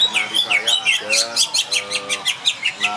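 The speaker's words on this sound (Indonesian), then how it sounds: "Saya juga penggemar burung kenari, yaitu kenari saya ada" A pet canary sings close and loud, repeating bright chirps and warbling trills in a quick, steady rhythm with no pause.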